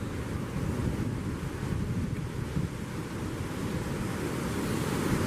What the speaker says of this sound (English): we've got huge waves bashing in